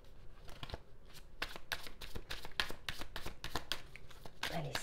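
Tarot cards being shuffled by hand at close range, a quick run of crisp riffling and slapping strokes, fairly quiet, with no talking.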